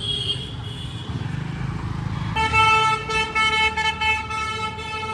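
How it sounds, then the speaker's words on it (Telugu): A scooter horn honks in a series of short, loud blasts over steady road traffic noise, starting partway through, during a Yulu rental ride. "నువ్వు ఎందుకు కొడుతున్నావురా ఊరికే హార్న్?"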